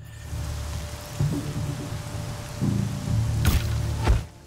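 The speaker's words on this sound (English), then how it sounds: "It's just raining and shit." Steady rain hisses throughout in the video game Horizon Zero Dawn, with low rumbling and thuds from game action underneath and a couple of sharp bursts near the end.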